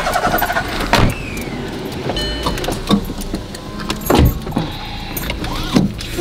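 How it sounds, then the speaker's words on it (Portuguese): A car driving slowly around the block, with engine hum, interior mechanical clicks and whirs, and a few louder thumps and creaks, close and continuous with no talk. "Eu vou dar uma volta de carro pro quarteirão."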